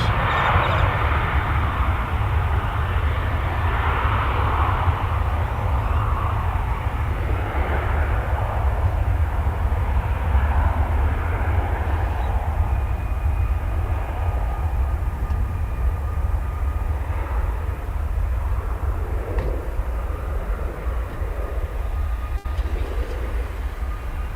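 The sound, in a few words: Boeing 737-800 taking off down the runway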